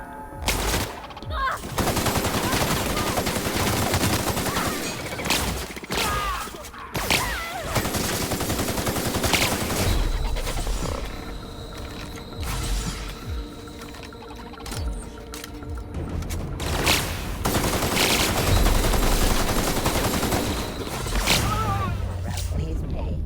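Rapid automatic gunfire from a gun in the video game The Outer Worlds, sustained bursts of loud shots running almost continuously with brief gaps, mixed with game effects.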